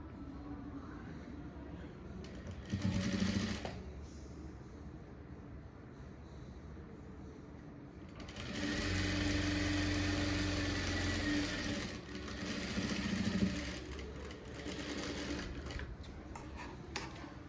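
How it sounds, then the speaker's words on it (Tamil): A sewing machine stitches a folded blouse piece in a tailoring class, running in short bursts with a longer stretch of steady whirring midway, set against a low background hum. "மடித்து விட்டு தைச்சிக்கோங்க"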